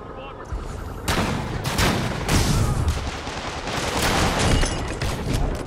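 Convicts fire sniper rifles in Marvel's Spider-Man, with loud sharp shots and crashing impacts arriving in several heavy bursts amid a busy action soundscape.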